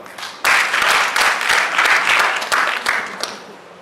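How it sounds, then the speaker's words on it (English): Audience applause at a Go Circular 2025 inaugural waste management event at a Radisson Blu, a sustained loud burst of clapping from a crowd, starting abruptly and fading toward the end. "Giving yourself a round of applause"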